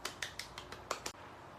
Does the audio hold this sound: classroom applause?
yes